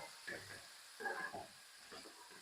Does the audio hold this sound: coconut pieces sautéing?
yes